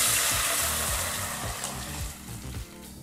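Water left from boiling lentils is poured into a hot pan for holige saaru, giving a steady loud hiss and sizzle that slowly fades.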